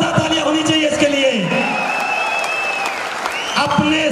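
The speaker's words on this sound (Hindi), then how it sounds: "जोरदार तालियां होनी चाहिए इसके लिए।" Loud, dense audience applause fills a training seminar hall, steady throughout with cheering and a voice over it.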